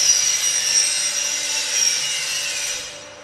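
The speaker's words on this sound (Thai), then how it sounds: "ตอนนี้เราก็เจาะหน้าต่างเพิ่มอีก1บานนะคะ" Construction work on a house in Prachinburi, Thailand, cutting an extra window opening into the wall, heard as a steady, harsh, close sawing or grinding noise that holds for the whole stretch and eases off slightly toward the end.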